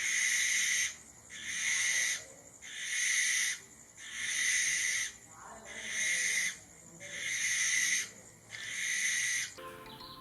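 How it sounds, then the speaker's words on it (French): Barn owl (Tyto alba) giving a long series of harsh, hissing screeches, about seven drawn-out calls in steady rhythm with brief gaps, loud and close, with no other voices. "La chouette effraie émet des sons très surprenants."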